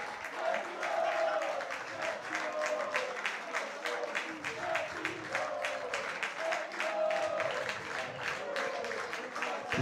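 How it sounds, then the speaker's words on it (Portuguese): Vitória de Sernache fans applaud and cheer their champions at a football ground, with sustained rhythmic clapping from a large crowd filling the whole stretch at steady loudness. "E eu vou-me calar um pouco para ouvirmos os adeptos do Vitória"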